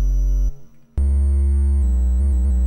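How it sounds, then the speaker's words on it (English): A triangle wave preset synthesized on a Commodore Amiga 1200 sounds as loud, buzzy sustained tones that break off briefly and then resume, shifting between several pitches. "You've also got triangle wave,"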